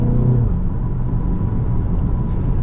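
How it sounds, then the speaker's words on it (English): An Audi TT 2.0L Quattro with its exhaust valves open in dynamic mode gives off a deep, steady exhaust rumble from inside the cabin, loud and continuous with no talk over it. "The exhaust valves also open up so you can hear a little bit better now."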